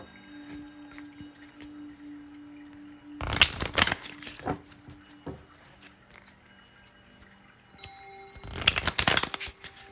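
Oracle cards shuffled by hand in two brisk bursts of rapid papery riffling and flapping, close up, separated by quieter stretches of faint handling noise.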